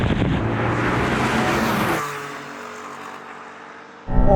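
A sports car engine roars loudly as it launches from a standing start for about two seconds, then drops to a lower hum before a sudden loud burst returns at the end.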